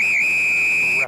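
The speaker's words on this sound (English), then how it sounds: "Referee whistles it up, and we have another scuffle here." A referee blows one long, loud, steady whistle blast during an amateur rugby match between Mystic River and Old Blue, lasting about a second before it cuts off.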